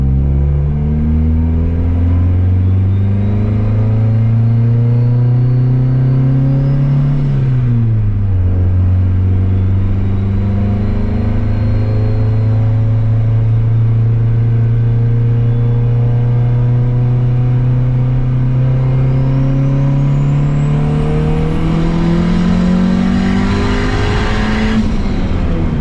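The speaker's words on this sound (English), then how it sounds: "Let's go take this thing for another 22 pound of boost run and see what it does." A turbocharged Honda Civic on a 22 psi boost run, its engine loud and close, revving up through the gears with a sharp drop at a shift and rising turbo whine as it pulls hard.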